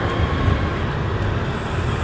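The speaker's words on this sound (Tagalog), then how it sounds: "LRT 2 yung bumabaybay dito sa may Aurora Boulevard" LRT 2 light rail train running along Aurora Boulevard, heard as a continuous low rumble mixed with steady road traffic noise, loud and close throughout, with no voices.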